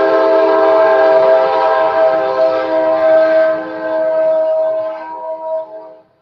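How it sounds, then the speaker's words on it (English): A Kansas City Southern Railroad train sounds a loud, sustained horn blast that holds for several seconds and then fades away at the end. "There's the Kansas City Southern Railroad."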